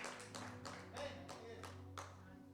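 Hands clapping in church, a few rhythmic distinct claps at a moderate pace, faint and somewhat distant over a low background hum.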